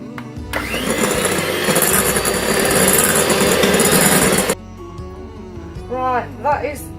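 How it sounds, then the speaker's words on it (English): An electric whisk beats caster sugar into pavlova meringue with a loud, steady close-up motor whir for about four seconds. It then cuts off, leaving quiet room tone and a brief voice. "you've got to whisk it and put it in tablespoon by tablespoon"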